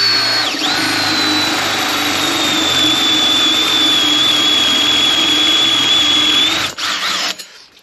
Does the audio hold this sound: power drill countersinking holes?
yes